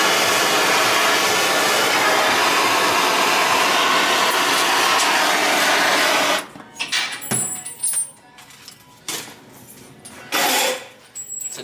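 A torch preheating aluminum before welding in a fabrication shop working on a Honda Civic build roars steadily and loudly for several seconds, then cuts off, followed by scattered clanks and shop noises.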